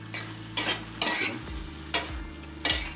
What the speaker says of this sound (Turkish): Ara ara böyle karıştırın,